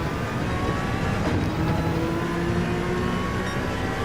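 A GR3 race car engine in Gran Turismo 7 at Le Mans drones loudly and steadily at high revs on a hot lap, with no one speaking.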